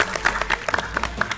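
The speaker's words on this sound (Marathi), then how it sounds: "एकदा जोरदार टाळ्या झाल्या पाहिजे" Studio audience applause on a Marathi TV game show as a winner is announced, a dense clapping texture of moderate loudness with bright bursts throughout.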